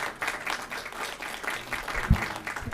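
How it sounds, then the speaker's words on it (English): Applause in a California Energy Commission business meeting after a presentation, a steady patter of clapping from a modest group across the whole stretch, moderately loud, with a single sharp knock near the end. "So I will join in comment and applause there too"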